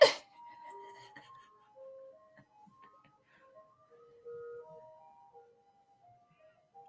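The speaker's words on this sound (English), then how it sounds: "There's an ice cream truck. We don't have those here anymore. I hear it." An ice cream truck outside plays a faint, distant chiming melody of single bell-like notes, heard alone in a quiet room.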